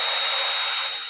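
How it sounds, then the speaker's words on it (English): Power drill bit boring through fiberglass tooling, a close, loud, steady high whine with a faint low hum that eases slightly as it finishes, no talking. "The drill bit's going through the fiberglass, and then we're just making a little divot in there."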